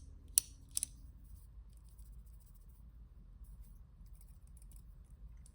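A titanium Arno Bernard Assegai bolt-action pen clicks twice in quick succession at close range, a sharp snap followed by a softer double click, then nothing but faint room hum.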